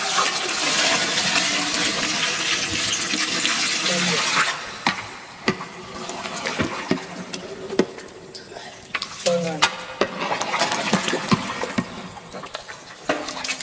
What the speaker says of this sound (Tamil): நல்லி வேக வச்ச தண்ணி